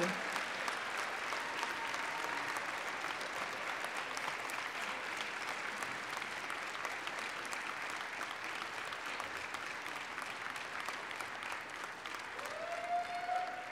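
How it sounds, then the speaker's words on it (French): A large audience at a university faculty of science graduation ceremony applauds warmly in sustained, even clapping for over ten seconds, with a faint voice surfacing near the end. "je vous demande de les applaudir chaleureusement en signe de votre reconnaissance"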